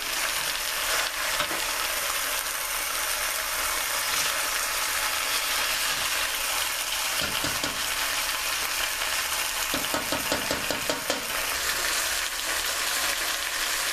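Oxtails brown in a non-stick pot with a constant loud sizzle, broken by scraping, clattering stirs and a quick run of rattling taps.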